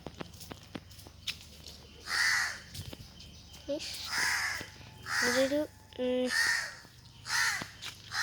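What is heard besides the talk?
crows cawing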